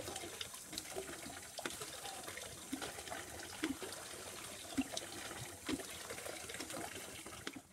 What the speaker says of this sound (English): And we'll let that fill up.